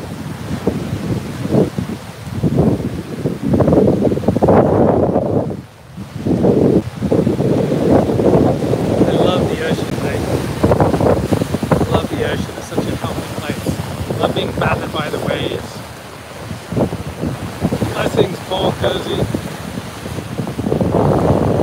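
Ocean waves and wind at a seashore with seagulls nearby, a steady roar of surf and wind buffeting the microphone throughout, loud and close, with a brief lull midway and faint higher calls drifting over the wash.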